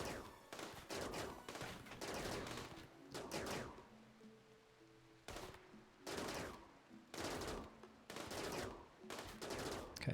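Bursts of automatic gunfire from a RimWorld firefight: repeated rapid volleys of shots in several loud clusters, separated by brief quieter gaps, with no talking.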